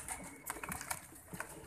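Pigeons from a breeder pair of flown birds coo in several short, soft bursts, fairly close, with no talking.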